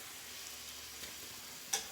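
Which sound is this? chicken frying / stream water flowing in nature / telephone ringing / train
chicken frying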